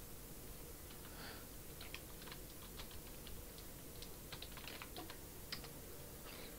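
Steady keystrokes on a computer keyboard during a penetration-testing lab session, a quick run of light clicks that comes and goes in small bursts above a low, constant background hum, with no voice.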